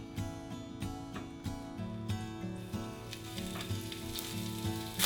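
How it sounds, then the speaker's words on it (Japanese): Meat rolls pan-frying in olive oil, a constant bright sizzle with soft pops and a few low clunks of the pan, close and steady, no talking. "肉巻きを焼いていきます。"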